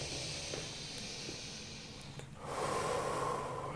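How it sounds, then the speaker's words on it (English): Deep breaths during a wrist warm-up at home, soft airy exhalations and inhalations close to the microphone, with a fuller, louder breath swelling near the end. "Big breaths in."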